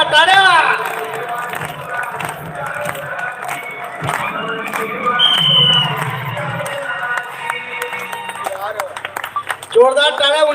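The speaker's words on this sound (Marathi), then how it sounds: "जोरदार टाळ्या" Loud applause and cheering from a crowd at a primary school celebration for Shivaji Maharaj Jayanti, a dense sustained clapping that surges near the end, with voices mixed in.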